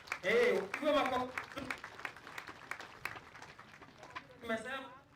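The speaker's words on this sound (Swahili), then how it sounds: "Iwe makofi." An audience at a memorial life celebration for Dr. Margaret W. Kariuki claps, a broad patter rising between voices and fading under renewed speech.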